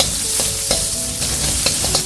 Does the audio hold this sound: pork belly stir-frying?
yes